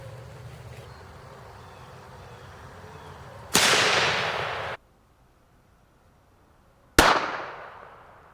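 A .22 Magnum rifle fired at a firehose body armor panel, with two sharp, loud outdoor gunshots several seconds apart, each ending in a brief echoing decay.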